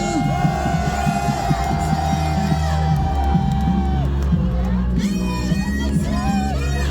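Outdoor crowd at a Korea University rally in front of the main gate, cheering and applauding loudly and continuously over steady background noise and music-like tones.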